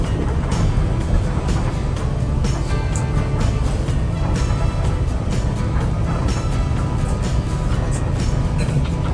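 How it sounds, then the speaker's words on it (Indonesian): Cabin of an intercity bus on the Bukittinggi to Bogor route, carrying a loud, steady engine and road rumble that runs without a break and has no clear talk. "saya bisa menampilkan suara audio dari video yang saya rekam di dalam bus"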